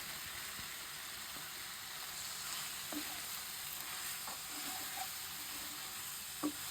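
Eggplant pieces fry with spices in a pan for a rohu fish curry, giving a steady close sizzle with a few faint stirring taps and no talk.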